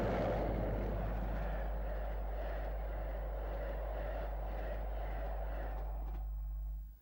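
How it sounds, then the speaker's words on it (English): Double-headed Class 20 diesel locomotives working the Skegness line, a steady, loud droning exhaust with deep low rumble holding for several seconds before cutting off near the end. "The Derby and Nottingham trains could both produce double-headed Class 20s. Their distinctive exhaust a welcome sound on the Skegness line."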